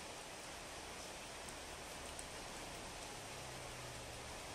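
Rain falls outside as a faint, steady hiss of drops that holds constant the whole time, with no voices.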